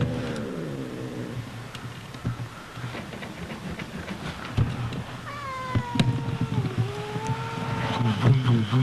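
A cat gives a few drawn-out, wavering meows, fairly close but not loud, over a low steady background hum.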